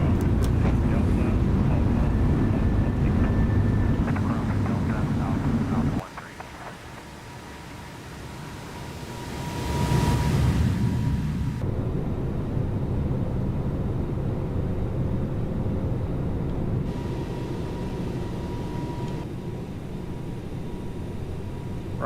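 A Toliss A321neo airliner in X-Plane 11 roars through its takeoff roll and climb, a steady, loud broadband engine rush that dips briefly and then swells again, with a voice talking over it.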